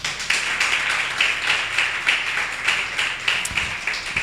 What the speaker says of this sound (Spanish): Dale ese fuerte aplauso al Rey.